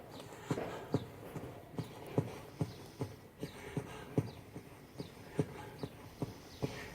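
Evenly spaced hoofbeats from a horse being schooled under saddle in a steady two-beat trot during leg-yielding work. The clear, close thuds repeat about twice a second with no talking.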